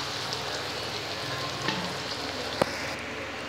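Spiced vegetables for a pumpkin, prawn and drumstick curry sizzle steadily in a pan as water goes in, a dense, even hiss with one brief sharp crackle near the end.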